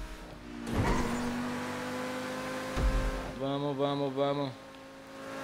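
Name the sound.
car accelerating in a race in the video game GTA V Online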